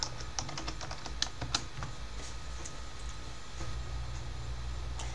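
Typing a terminal command on a computer keyboard, a quick run of close, crisp key clicks that thins into scattered taps over a low steady hum.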